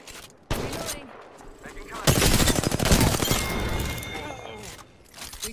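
Apex Legends gunfire erupts in sharp, rapid automatic bursts, loud and close, swelling midway into a sustained volley with shattering crackle, while in-game voices speak over the shooting before and after.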